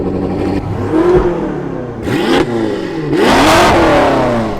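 A BMW M6 Competition with downpipes and a full titanium M exhaust revs hard three times in succession, each rising roar sharp and loud at close range, with brief dips between the blips.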